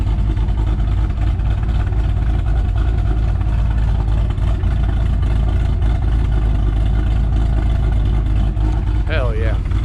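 A Ford Shelby GT500 engine idling with a choppy, lumpy idle, a steady loud low rumble running throughout, with a brief voice near the end.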